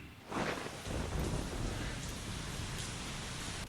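Heavy rain falls in a steady, dense hiss. It swells a little after the start and then holds at an even level with no voices.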